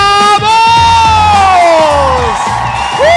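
A lively crowd of fans cheers, whoops and shouts loudly as the lead actors of a teen series arrive at a fan meetup, with music playing underneath.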